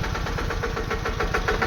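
A tractor engine runs close by on a farm, with a steady, throbbing low chug and a rapid rhythmic knock that holds unbroken.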